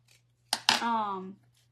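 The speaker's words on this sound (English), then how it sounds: "I'm going to just trim this one just a little bit" Scissors snip through paper while trimming a paper Christmas tree: two quick, close cuts in a quiet room, with a faint low hum behind them.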